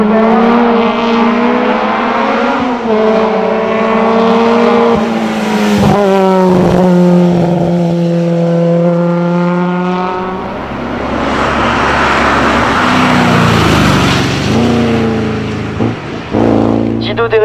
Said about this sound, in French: Di Donato améliore, l'Alfa Romeo Giulietta GTV progresse de 285 millièmes ici et se voit ajouter un peu de 319 millièmes.